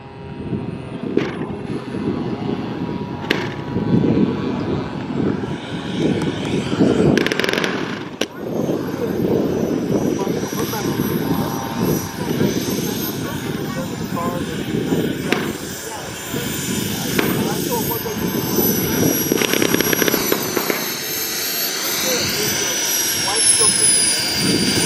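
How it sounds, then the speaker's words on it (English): A radio-controlled T-45 Goshawk model jet flies at a warbirds and classics airshow in Fredericksburg, its turbine roaring loudly and steadily with a rising and falling whine as it passes, heard at moderate distance over outdoor ambience. "Gorgeous aircraft."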